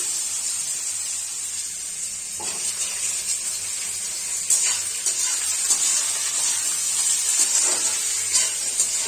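Cumin seeds frying in oil in a kadai, a steady bright hissing sizzle that swells slightly partway through, with a few faint stirring knocks.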